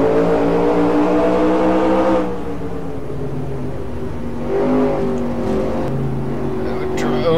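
A 1969 USAC stock car race in the NASCAR Racing 2003 video game, with a loud, continuous engine drone that dips and rises in pitch through the gears. Someone talks over it throughout.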